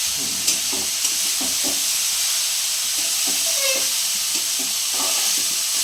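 Grated carrot frying in a pan for carrot laddu, a soft continuous sizzle and hiss with light scraping stir strokes at an uneven pace, close and without talking.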